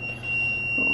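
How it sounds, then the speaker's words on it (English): A kitchen timer goes off while biscuits bake, giving a steady, high electronic beep that holds for the whole moment over a low room hum. "The timer's going off."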